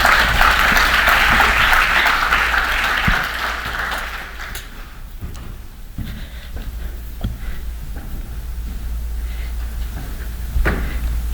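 A conference audience applauds as a speaker is welcomed at a regional genetics network annual meeting. The clapping is dense and steady for about four seconds, then fades into quieter room noise with scattered thumps.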